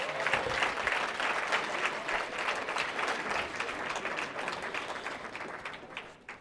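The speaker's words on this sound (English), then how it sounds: "I think we need one more round of applause for our graduates," Graduation ceremony audience applauding graduates, sustained dense clapping from a crowd heard at moderate distance, tapering off at the end.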